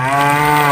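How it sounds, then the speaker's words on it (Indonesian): A red cow lets out one loud, sustained moo, steady and close, filling the whole moment on its own with no talking over it. "Wah, di sini banyak hewan sapi teman-teman."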